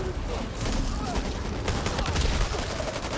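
Gunfire in the Back 4 Blood shooter on PS5, dense rapid shots crackling continuously through a busy combat din, with voices talking under the racket.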